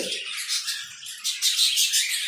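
A violet non-ring pair of Fischer's lovebirds chirps continuously up close, a dense run of bright, shrill tweets and squawks with no talking.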